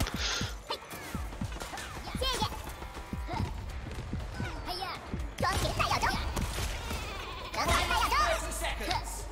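Sheep bleating in the game Worms Rumble, several quavering calls rising over a busy mix of game crashes and effects, with a voice talking and laughing over it.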